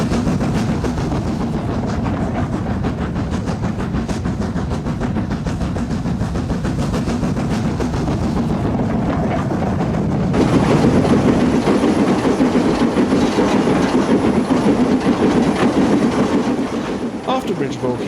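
A train climbs the grade away from Bridge of Orkney past the distant signal on a Scottish mountain line toward Rannoch Moor, a steady loud rumble and clatter of wheels that swells and brightens after about ten seconds, with no talk.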